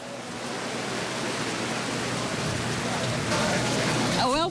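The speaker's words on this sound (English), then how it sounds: "It's raining" Steady rain falls outdoors at a primary school, a dense, even hiss that holds loud and constant throughout, with a brief warbling tone near the very end.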